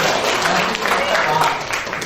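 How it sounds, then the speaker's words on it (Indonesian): Steady applause from an audience, a continuous patter of clapping throughout with voices mixed in. "Tepuk tangan dulu untuk Pak Cecep"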